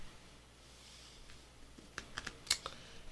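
Quiet, close keystrokes on a computer keyboard typed with one hand, sparse clicks that cluster into a short irregular burst near the end against a soft background hiss.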